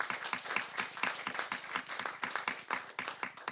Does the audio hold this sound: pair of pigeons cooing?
no